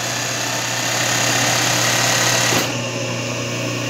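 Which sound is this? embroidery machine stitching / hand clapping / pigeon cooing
embroidery machine stitching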